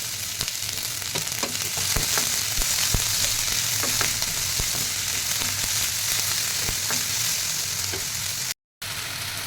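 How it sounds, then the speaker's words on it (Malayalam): Chopped spring onion bulb sizzles in hot coconut oil with popping mustard seeds, a steady close-up crackle with scattered sharp pops and the scrape of stirring, no voices. "ഇതിലേക്ക് നമ്മൾ ഈ അരിഞ്ഞ് വെച്ചിരിക്കുന്ന സ്പ്രിംഗ് ഒനിയൻ്റെ സവാള അല്ലേ അതിട്ട് കൊടുക്കുവാണ്"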